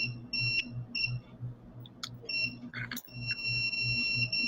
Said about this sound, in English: Sorry about the beeping. I'm trying to test for diamonds here.